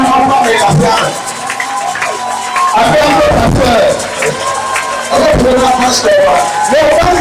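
A church congregation cheers and acclaims during a lively service, with a loud crowd of voices, whoops and hubbub rising and falling over several seconds, mixed with a person speaking over the noise.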